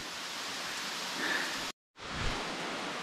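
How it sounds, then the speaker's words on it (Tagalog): Steady rain falls outdoors as a dense, even hiss, broken by a brief dropout before resuming at the same level. "Ayan ang ulan."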